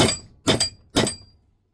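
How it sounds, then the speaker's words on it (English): Three sharp metallic hammer blows strike a copper piece to flatten it during reassembly of a Bamford engine connecting rod, the second blow doubled, each ringing briefly in a quiet workshop. "hammer that one flat"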